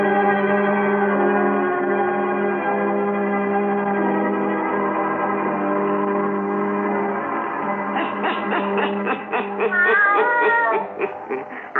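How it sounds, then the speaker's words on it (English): A black cat meows as a radio drama effect, sounding over a sustained tonal music bed before loud, repeated, wavering cat cries take over near the end. "Satan, her wise black cat"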